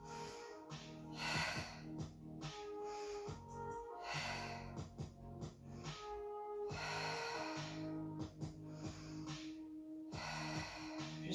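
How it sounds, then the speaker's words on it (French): Repeated forceful breaths out during a Pilates exercise, several short, strong puffs of air at a regular rhythm over steady tonal sound in the background. "J'inspire par le thorax et je souffle."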